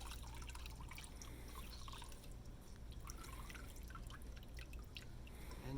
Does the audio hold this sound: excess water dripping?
yes